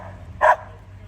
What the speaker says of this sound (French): elle aboie comme pas possible